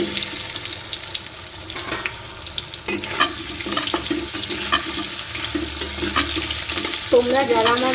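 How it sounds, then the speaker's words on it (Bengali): Potato and eggplant frying in a little oil in a Bengali home kitchen, a soft sizzle with clinks and scraping of a spatula, plus a brief burst of running water near the end. "প্রথমে আমি একটু আলু আর বেগুনটা ভেজে নেব।"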